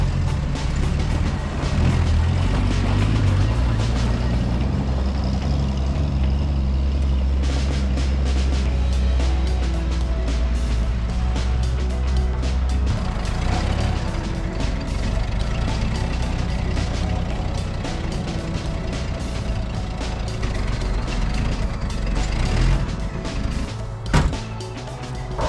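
A 1985 Toyota Land Cruiser FJ60 with a broken frame runs loudly, its engine rumbling steadily close by with heavy low drone, a few knocks and clunks and a sharp thump near the end.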